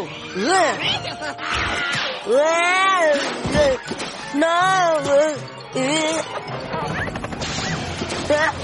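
A cartoon cat in the animated series Kid vs Kat, meowing and yowling in a run of drawn-out, rising and falling cries, with a crash and a thwack mixed in among them.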